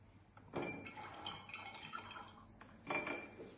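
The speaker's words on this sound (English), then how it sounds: "open the valve. Water come out" Water gushes out of an opened valve on a portable water cleaning and disinfection unit, with two surging splashy bursts of flow and a steady trickling, liquid spray in between, close by.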